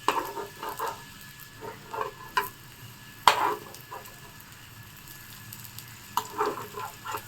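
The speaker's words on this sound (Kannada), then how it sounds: "ಎಗ್ಗದು ಅಲ್ಲಿವರೆಗೂ ಫ್ರೈ ಮಾಡಿಕೊಂಡ್ರೂ ಸಾಕು" Eggs sizzle as they fry on a tawa, a steady crackling hiss broken by scattered spatters and sharper pops, with a utensil scraping and tapping against the pan now and then.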